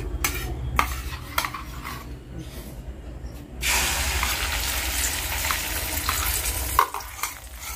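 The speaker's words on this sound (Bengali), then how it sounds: "ডিম ভাজা।" Eggs frying in a pan at home, with a few utensil clinks and stirring at first, then a loud steady sizzle bursting in partway through and continuing close by.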